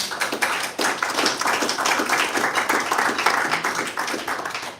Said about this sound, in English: Please join me in a round of applause for our new and returning volunteer leadership